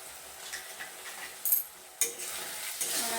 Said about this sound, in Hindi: और अच्छे से मिक्स कर लेंगे।